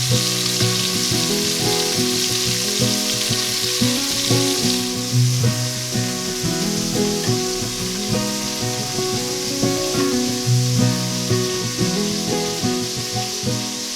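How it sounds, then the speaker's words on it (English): Seasoned bone-in meat cubes frying in a pan, a loud continuous sizzle with occasional stirring and crackle, steady throughout with no talk. "I'm going to season the meat and then quickly fry it."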